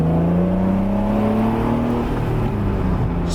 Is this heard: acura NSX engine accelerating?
yes